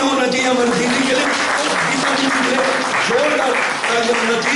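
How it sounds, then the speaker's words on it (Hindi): Loud, continuous clapping from an audience in a Ratlam hall event, applauding Dr. Savita, with voices and crowd noise mixed throughout the steady, dense applause. "जोरदार तालियां होना चाहिए हमारी दीदी के लिए"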